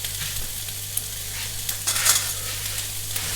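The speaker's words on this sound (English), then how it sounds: "we're just going to add the mushrooms, and we're going to add the sweet pepper, just to get them soft" Steady hot sizzle of mushrooms and sweet pepper frying in a tagine, with a soft low hum underneath and occasional stirring scrapes and spits, close and continuous.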